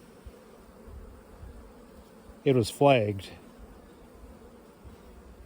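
Honey bees hum steadily in an open hive box, a soft, even buzz that runs throughout, broken once by a brief spoken phrase.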